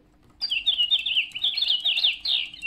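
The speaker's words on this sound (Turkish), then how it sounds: "okşadığında gördüğünüz gibi kuşlar ötüyor" Battery-powered toy budgerigars in a homemade cage chirp and tweet continuously once switched on and stroked, a bright, busy stream of close electronic-sounding bird calls with no voices over them.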